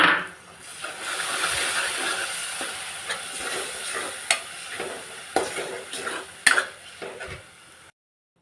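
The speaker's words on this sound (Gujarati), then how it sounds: "આદુ લસણ અને લીલા મરચાંની પેસ્ટ નાખી દેવાની છે એક મિનિટ સુધી શેકીને" Ginger, garlic and green chili paste sautéing in a pan for a tuvar totha curry, with steady sizzling frying, spoon stirring and occasional clinks of utensils against the pot, close and moderately loud.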